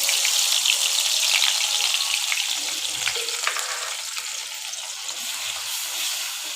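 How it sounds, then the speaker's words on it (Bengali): Onion and garlic frying in mustard oil for a rohu fish curry, a bright continuous hiss and crackle that stays loud, easing slightly toward the end. "এখন আমি পেঁয়াজ রসুনটা দিয়ে দিচ্ছি"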